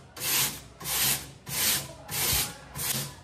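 A brush loaded with Colin cleaner scrubs a window in five long, even strokes, each a loud rasping swish with short pauses between, close up and without talk.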